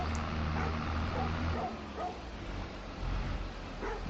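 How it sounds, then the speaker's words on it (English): A dog in the Farming Simulator 22 video game gives a few short yips and barks over a steady, noisy game background, fairly faint and brief. "Let's hope it's a friendly dog."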